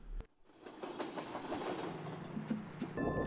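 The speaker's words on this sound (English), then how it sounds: "click on the train and drag the thumbstick to the right to make the train move." Train moving through a scene in the video game A Memoir Blue, a steady rolling rumble with rhythmic rail clatter that carries on without pause after a brief opening click, with no voices.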